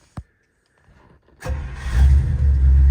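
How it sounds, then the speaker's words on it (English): Warmed-up 1955 Buick V8 cranking and firing right up after a stalling fix, a sharp click, a brief starter whirr, then the engine catching into a loud, steady low rumble. "And the car starts right up."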